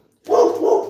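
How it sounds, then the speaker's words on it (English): A dog gives one loud, close double-pulsed bark that breaks a quiet silence inside a house. "Sorry about my dog. Someone's walking by the house."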